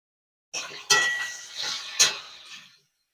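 A spatula adding green chili paste to spinach in a pan, with a few close metallic clinks and scrapes in short bursts, followed by silence.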